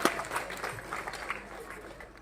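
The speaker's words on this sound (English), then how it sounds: "you have to give us a huge round of applause to welcome our judges this morning" A crowd at a primary school's silver jubilee celebration applauds to welcome the judges in the morning, a soft, somewhat distant patter of clapping that holds steady and fairly quiet throughout.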